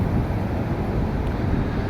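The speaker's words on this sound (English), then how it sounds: "it's a little bit windy here" Low, rumbling buffet of wind blowing across a microphone outdoors, a constant muffled roar with no speech over the two seconds.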